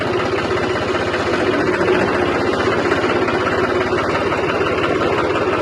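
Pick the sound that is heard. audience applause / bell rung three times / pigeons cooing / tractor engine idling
tractor engine idling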